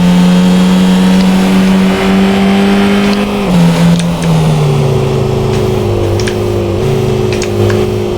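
A car engine revs loudly and steadily in the video game Car Dealership Simulator 2, its pitch holding then dropping in stages as it winds down, close and continuous with no talk.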